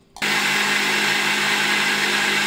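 A kitchen mixer grinder switches on abruptly after a brief quiet moment, then runs at a steady, loud, high-pitched whine with a constant motor hum, close and uninterrupted with no talking.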